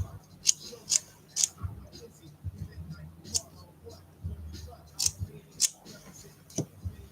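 Scissors cut steadily around a craft piece, a string of sharp, close snips in uneven rhythm with quiet handling noise between them.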